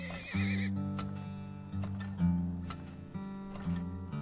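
Horse neighing in the Texas oil-drilling video game Turmoil, a clear whinny rising over steady in-game music, with clip-clop hooves and a second shorter neigh following.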